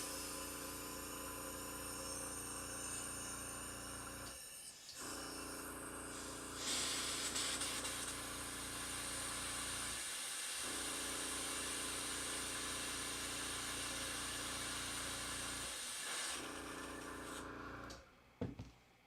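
An airbrush loaded with acrylic paint sprays into a small cleaning canister, giving a steady, close airy hiss that runs with brief gaps near 5, 10 and 16 seconds and fades out at the end.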